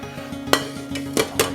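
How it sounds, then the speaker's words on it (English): A pan rolled over a folded Mexican omelet, making several short metallic knocks and scrapes over a low steady hum, close and fairly loud. "just roll your pan over it, like so"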